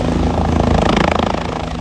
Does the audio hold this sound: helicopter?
yes